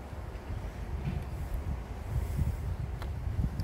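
Soft, steady outdoor wind rumbling against the microphone, with low gusty buffeting throughout and no voices.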